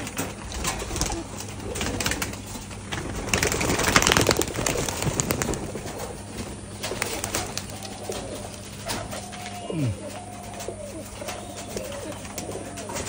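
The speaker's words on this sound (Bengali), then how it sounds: "আসলে কবুতর এখন কাটছে।" Pigeons coo in repeated soft, rolling calls over a steady background hum from a running fan, with bursts of wing and movement noise near the start and several clear coo phrases later on.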